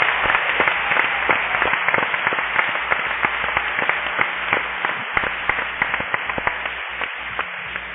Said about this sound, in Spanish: Dele un aplauso al Señor fuerte.